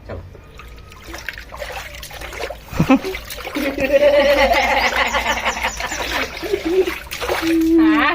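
A baby splashes and paddles in water, with irregular sloshing and trickling close by, plus brief giggles and adult voices talking over the splashing.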